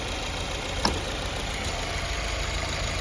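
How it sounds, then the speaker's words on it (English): A car engine idles at normal idle conditions, giving a steady, even mid-pitched hum with a faint regular knock, one brief click partway through, and no talk. "the engine is currently at normal idle conditions"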